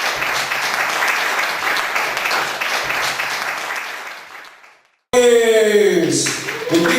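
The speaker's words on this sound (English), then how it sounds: "Please, with big applause, please." Audience applause in a hotel exhibition hall, steady broadband clapping from many hands that fades out, then after a brief gap gives way to loud sustained music or tonal sound.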